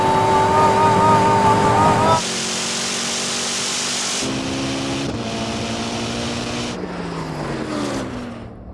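A Koenigsegg racing at high speed in the desert, a loud engine roar that shifts abruptly into a rushing, wind-heavy drone with changing pitch as it passes, close and dominant.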